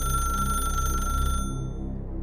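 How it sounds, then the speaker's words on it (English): Shrill, continuous mechanical ringing of an old rotary telephone bell, loud and sustained, with the metallic tone cutting off abruptly near the end while a low hum continues. "Then the phone rang a 3rd time."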